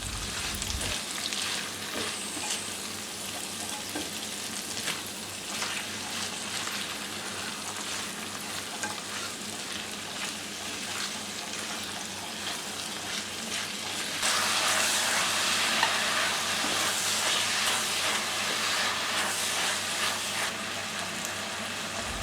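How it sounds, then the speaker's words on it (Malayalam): Sliced onions and salt sauté in a pan for a crab roast, with a low, continuous sizzle that gets louder and brighter partway through, alongside occasional stirring and no talk. "അപ്പോൾ ഒരു 4 സവാള അരിഞ്ഞ് ചേർത്ത് കൊടുക്കാം"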